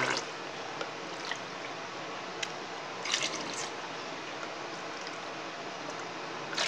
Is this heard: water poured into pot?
yes